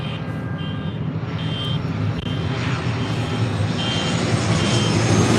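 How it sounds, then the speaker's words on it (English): A Southwest Airlines Boeing 737-700 from Oakland lands on runway 24 left at LAX, its engine roar loud, steady and building slightly as it passes close overhead, with no talk. "Our next arrival on 24 left is Southwest Airlines flight 3437 coming in from Oakland, California. The 737-700."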